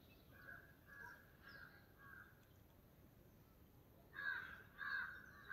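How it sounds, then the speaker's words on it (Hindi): Crows cawing on a cold morning in a Himachal village, a series of faint, distant caws in a loose rhythm, then two louder, nearer calls toward the end over quiet outdoor ambience. "अब पक्षी चहचहा रहे हैं"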